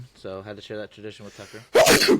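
Someone speaks briefly, then a single loud, close sneeze bursts out right after his words.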